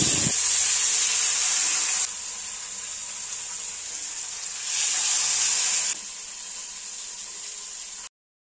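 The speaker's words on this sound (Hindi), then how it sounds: "अभी मैं कर रही हूँ यहाँ पे दूसरा बैच फ्राई" Local fresh fish frying in hot oil in a second batch, a constant bright sizzling hiss that holds steady, briefly grows louder, then settles before stopping abruptly.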